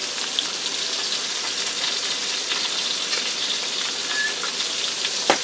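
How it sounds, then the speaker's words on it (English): Seasoned potatoes frying in an Instant Pot, a steady bright sizzle throughout with a light tap of stirring near the end, no voices. "Now I'm going to allow these to fry and I'll stir them around."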